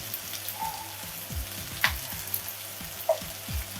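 Turmeric and red chilli powder fry in a little oil for a spicy fish curry, giving a soft, continuous close sizzle with occasional faint clicks and utensil taps, and no voices.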